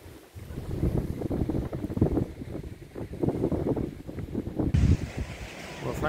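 Wind buffeting the microphone at the breakwater at Hope Cove on the seashore, a continuous rough low rumble with gusts rising and falling, plus faint surf in the background.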